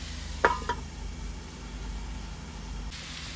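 Fish curry sautéing in a pan gives a faint, steady sizzle with a couple of brief clinks near the start and no speech.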